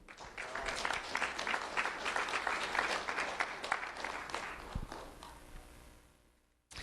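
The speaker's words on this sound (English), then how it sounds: "Round of applause, everyone" Audience applause at a Lee County Sheriff's Office recognition event, a steady round of clapping that swells, holds, then fades out toward the end.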